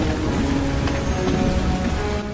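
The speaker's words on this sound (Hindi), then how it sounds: "ये तूफान लगता है।" A storm: heavy rain pours steadily and loudly throughout, with a low rumble of thunder underneath and no voices.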